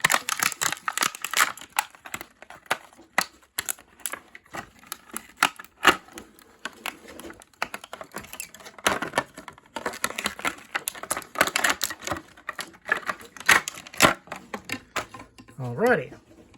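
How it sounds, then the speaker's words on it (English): Plastic packaging crinkles, tears and rustles in close, irregular bursts as it is pulled off a Batman toy from The Flash (2023), with brief clicks and scrapes along the way. "we're going to pull this plastic off."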